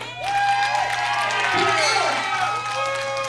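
Crowd at a Texoma wrestling event applauding and cheering loudly and steadily for the whole stretch, with an announcer's voice carrying over the noise.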